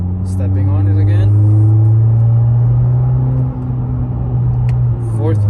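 Honda Accord with muffler and resonator deleted pulling hard in fourth gear after a downshift, a loud steady droning exhaust with rising harmonics close by, someone talking over it.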